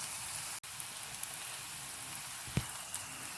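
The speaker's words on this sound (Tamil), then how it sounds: "வெங்காயம் இப்போ நல்லா வெந்துட்டுருக்கு" Onions frying in oil for an onion tamarind curry make a soft, continuous sizzle and crackle with a few faint pops, quiet and steady with no voices.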